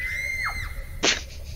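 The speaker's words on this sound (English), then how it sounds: "Iconic scream." A high, drawn-out scream in the horror game Ao Oni rings out and bends downward before cutting off, followed by a short loud burst of noise, with no talking over it.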